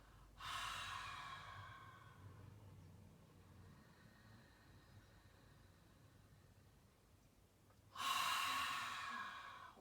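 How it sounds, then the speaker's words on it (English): Slow, deep cleansing breaths during a yoga session, a long airy inhale at the start and another strong breath near the end, close and alone with a quiet pause between them. "just doing a few cleansing breaths here. So take a deep, full breath in. Exhaling out."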